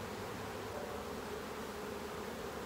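Saskatraz honey bees buzz at an open hive, a dense, steady hum of many insects, close and soft, continuing without pause or any voices.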